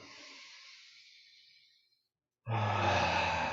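A slow, deep breath during a guided breathing exercise: a long, soft exhale that fades out, a brief pause, then a strong, close inhale.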